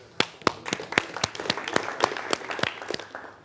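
Audience at a televised quiz show in Agsu, Azerbaijan, applauding with sharp, distinct claps over a softer patter, a modest crowd clapping steadily for a few seconds.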